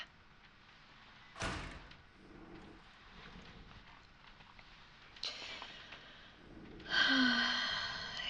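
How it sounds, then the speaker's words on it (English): A heavy door swings open in a sci-fi spacecraft setting, with a sharp mechanical thud early on, a hiss-like sweep midway and a louder whooshing, tonal rush near the end, all fairly close against a low ambient hum. "Now, a little help with this door. It's pretty heavy."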